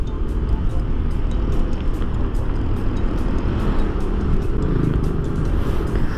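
Steady, fairly loud road rumble of cars and motorcycles passing on a road in Aceh during a Sunday morning group ride, a continuous engine and tire drone with no distinct individual pass-bys.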